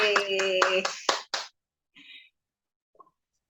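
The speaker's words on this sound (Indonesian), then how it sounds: "Tepuk tangan dong buat kita semua dulu." A small group claps hands in a quick burst of sharp, close claps lasting about a second and a half, overlapping with a voice, followed by near silence and a few faint sounds.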